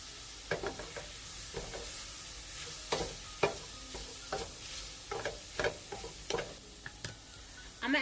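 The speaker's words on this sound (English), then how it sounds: "going to add about a tablespoon of chopped up garlic." About a tablespoon of chopped garlic sizzles quietly in a pan for shrimp and grits, a steady soft frying hiss broken by light scrapes and taps of a utensil stirring.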